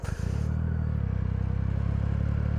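A Triumph Rocket III motorcycle with a 2.3-litre three-cylinder engine revs close by, a deep throbbing pulse with strong air-intake induction roar that rises and settles into a steady rumbling idle.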